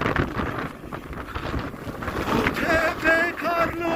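Gusty wind on a mountain ski slope at Erciyes Ski Center buffets the microphone in rough, uneven rushes; faint tonal sounds emerge near the end.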